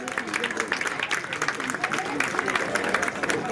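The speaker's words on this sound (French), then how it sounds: "Et vous devez vous applaudir encore." Audience applause for the artists at an ICM Cocody event, quieter scattered clapping from a crowd heard at moderate distance, steady for a few seconds with no clear voice over it.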